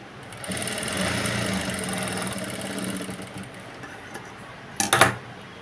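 A tailoring sewing machine stitches blouse cloth in a steady, close mechanical whir for about four seconds, then falls quiet, followed by a short burst of clattering near the end; no talking.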